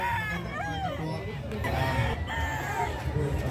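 Gamefowl roosters crow at a crowded gamefowl festival and pet expo, several overlapping calls rising over a steady hubbub of crowd noise and nearby chatter.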